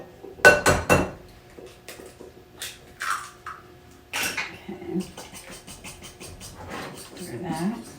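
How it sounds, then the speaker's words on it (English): Spoon stirring chicken corn soup in a pot, a series of light clinks and scrapes against the metal, scattered and irregular, with a person talking in between. "Stir that up."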